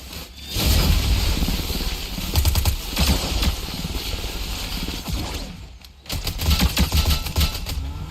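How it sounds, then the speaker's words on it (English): Gunfire aimed at a boss in Fortnite, heard as rapid rattling bursts of automatic shots in several volleys with a brief lull near the end, loud and close, no talk. "You guys started shooting him."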